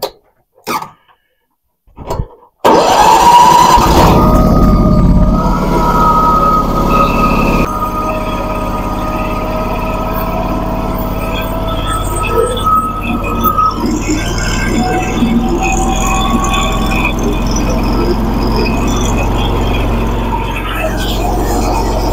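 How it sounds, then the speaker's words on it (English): Hudson portable sawmill with a belt and idler pulley tensioner starting up, a loud engine roar that kicks in after brief clunks, then settles into a steady running drone with some clatter. "we're going to start this up, make sure the belt stays on going across that idler pulley tensioner"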